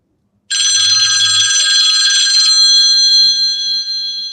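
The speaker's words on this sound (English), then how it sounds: "I'm not even running this, and my phone's still ringing." A mobile phone rings loudly and continuously with a steady electronic ringtone, starting abruptly and sustained throughout, with no speech over it.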